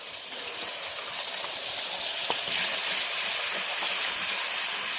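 Spice paste of onion, garlic, ginger and cumin fries in soybean oil in a wok, making a steady, dense hiss that holds at an even loudness from start to finish with no voices.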